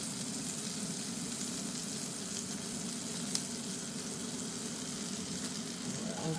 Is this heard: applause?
no